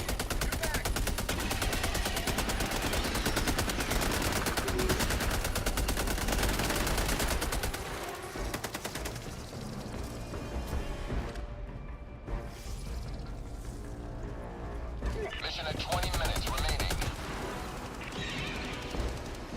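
Rapid bursts of rifle fire in the video game Helldivers 2, loud and dense for several seconds, then sparser shots, clatter and distant explosions as play continues.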